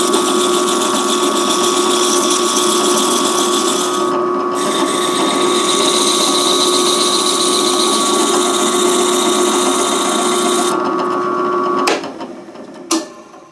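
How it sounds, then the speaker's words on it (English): A steady, loud whirring machine drone runs throughout, like a rotary sanding tool, while a wooden wheel is sanded with 120 and 220 grit sandpaper, with a brief dip midway and a couple of sharp knocks near the end. "smooth out the center a bit using the 120, and then we can jump up to 220 grit sandpaper"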